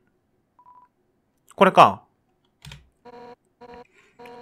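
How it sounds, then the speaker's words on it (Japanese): Phone call ringing in the video game Undertale: a short chime, then a clear electronic ringtone of repeated bursts, about four rings in steady rhythm, with a brief spoken remark just before it. "おー、アンダインから電話なんだ。"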